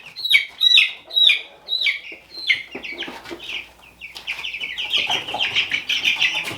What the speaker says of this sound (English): These are the Cornish cross.